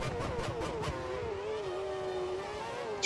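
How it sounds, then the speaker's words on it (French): F1 car in a racing video game braking for a hairpin at a US Grand Prix qualifying session, engine pitch falling steadily through quick downshifts, loud and close with no talk. "Le freinage ici pour l'épingle."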